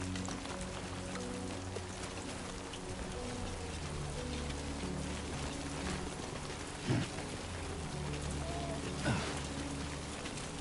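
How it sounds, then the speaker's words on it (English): Steady rain pours in the video game Death Stranding 2, a dense continuous hiss of drops on surfaces with a low rumbling bed and a couple of faint thuds, no voices. "Great. Rain."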